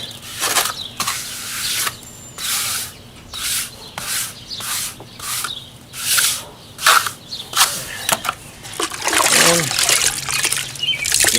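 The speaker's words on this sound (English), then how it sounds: "Rinse it out." A sponge being rinsed and squeezed in a bucket of water during foundation repair work, with repeated wet splashes and sloshing bursts in an uneven rhythm, close and fairly loud.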